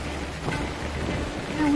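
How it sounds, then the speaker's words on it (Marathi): Steady rain falls in a soft, even patter that swells slightly toward the end of a brief moment. "पाऊस सुद्धा सुरू झाला."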